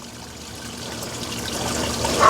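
Water trickling and pouring into the reservoir of a Lettuce Grow hydroponic growing tower, a soft running flow that builds gradually louder and ends in a brief splashy burst, with no voices.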